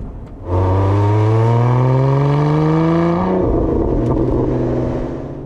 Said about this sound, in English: Click, clack, burble from the exhaust